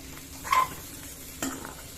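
Bread poha with coriander leaves being stirred in a pan, two soft scraping strokes over a faint sizzle, quiet and close.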